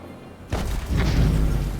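In Star Citizen, a sudden boom goes off, then a loud, rolling rumble that keeps roaring for over a second with no speech.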